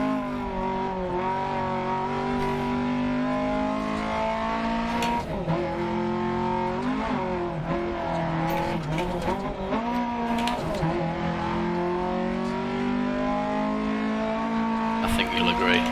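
A rally car in the Dirt 2.0 racing game, its engine revving hard and steadily with rising and falling pitch, loud and continuous, with brief tire squeals and gravel spray.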